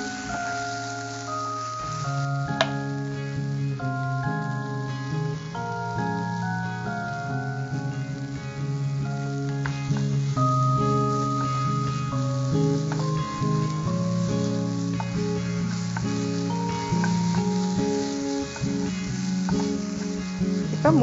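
Egg bhurji frying in a pan, a continuous crackling sizzle with scattered pops and spatters, with steady tonal background music playing over it and no talking.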